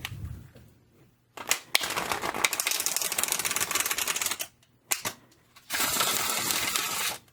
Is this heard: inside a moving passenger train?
no